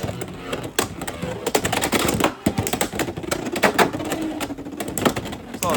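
Two Beyblade spinning tops battle in a stadium, giving a loud, dense rattle of rapid metallic clicks and scrapes as they collide and grind nearby.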